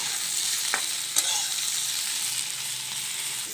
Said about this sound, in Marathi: बघा अशा पद्धतीने आपण इथे तेलामध्ये हे परतून घ्यायचे आहे